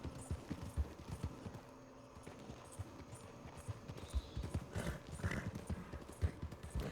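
A horse's hooves clip-clop steadily in Red Dead Redemption 2, a close, even trotting rhythm over faint ambient outdoor sound with no talk.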